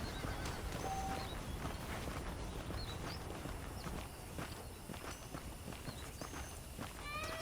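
In the Red Dead Redemption western game, saddled horses give a faint whinny over soft clip-clopping hooves and outdoor ambience, quiet and somewhat distant.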